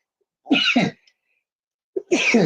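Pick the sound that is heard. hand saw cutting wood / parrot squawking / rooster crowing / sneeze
sneeze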